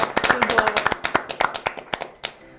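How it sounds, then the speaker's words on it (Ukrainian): A small audience at a live storytelling event claps, with distinct sharp individual claps in an uneven rhythm, close and fairly loud, tapering off near the end. "Ваші оплески"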